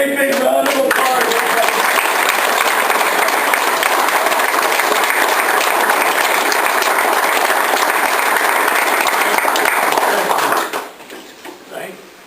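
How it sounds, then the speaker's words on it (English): An audience gives a big, sustained round of applause for Harry Capron. The clapping stays loud and even for about ten seconds, then quickly dies away to scattered claps. "Give another great big round of applause."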